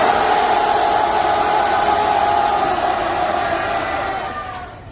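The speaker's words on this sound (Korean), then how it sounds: "와! 함성 시작!" Protest crowd at a rally against relocating a state bank, roaring and cheering together in a loud, sustained mass shout that holds steady for several seconds before starting to fade.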